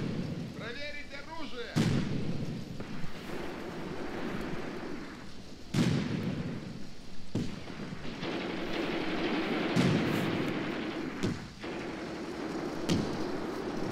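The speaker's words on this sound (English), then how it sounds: "We've also been throwing some mortar rounds this way." Mortar rounds fire in the tank-and-infantry war game Graviteam Tactics, set on the Mius Front, as a series of sharp booming blasts every few seconds over a continuous rumbling battlefield din, with brief voices near the start.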